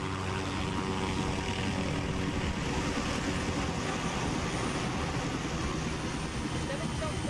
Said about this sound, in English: Barkov is sending in helicopters.